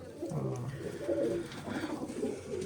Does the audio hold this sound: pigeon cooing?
yes